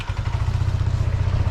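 A motorcycle engine idles close by, a steady low mechanical throb with a faint clatter running without a break.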